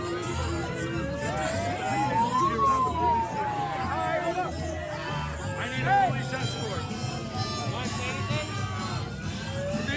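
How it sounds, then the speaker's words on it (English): A siren on a PA system wails, sweeping up and down continuously over a noisy crowd at a protest against ICE in Minnesota, with voices and babble throughout. "you've got the siren there that's on the PA that's going continuously down there"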